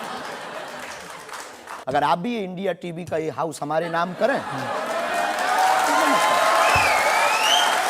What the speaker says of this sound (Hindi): स्टूडियो में बैठी हुई जनता की तालियों की गड़गड़ाहट